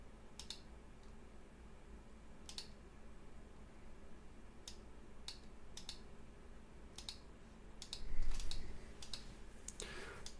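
A computer keyboard is typed on in sparse, light clicks with long gaps between them, then a brief flurry near the end. It is close and quiet, with no voices.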